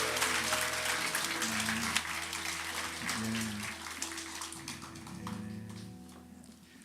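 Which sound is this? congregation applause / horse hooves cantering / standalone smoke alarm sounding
congregation applause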